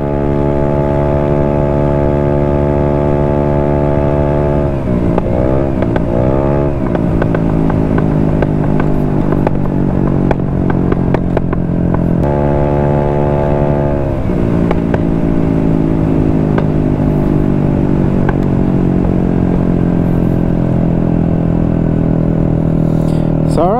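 A Vespa scooter engine hums steadily on a night ride through downtown streets, its pitch dipping and rising as the rider shifts and changes speed, loud and close with continuous road noise throughout.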